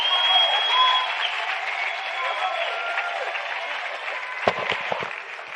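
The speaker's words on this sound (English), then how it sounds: "another round of applause for our winners" Loud, sustained applause from the audience at the 2025 Science Forum South Africa closing plenary honours the award winners, a dense wash of clapping that holds for several seconds before a few sharper claps stand out as it thins.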